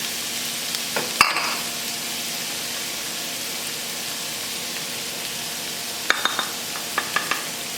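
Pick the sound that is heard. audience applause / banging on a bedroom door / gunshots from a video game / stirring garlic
stirring garlic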